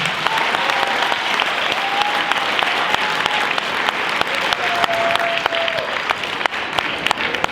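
Dense, sustained applause from a sizable high school audience after a guest speaker, close and loud, steady clapping throughout with a few faint voices mixed in.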